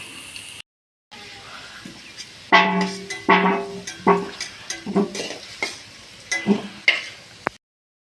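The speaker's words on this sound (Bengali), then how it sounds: "বিরিয়ানির জন্য আলুগুলো লাল লাল করে ভাজা হয়ে গেছে" Potatoes fry in hot oil for a chicken biryani, with a soft sizzle under a series of irregular scraping and clinking stirring strokes that grow busier after a short pause near the start.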